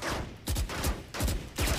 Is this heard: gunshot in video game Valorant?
yes